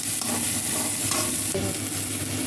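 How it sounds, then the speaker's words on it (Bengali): Onions sizzling in hot oil in a pan, a dense, loud frying crackle close up with a spatula scraping and stirring through the mix. "পেঁয়াজ হয়ে গেলে তারপর আদা রসুন বাটাটা দেবো"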